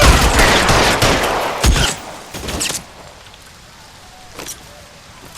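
In the L.A. Noire video game, a loud burst of crackling gunfire erupts up close. Scattered shots follow and fade into quieter background noise, with a single sharp crack at the end.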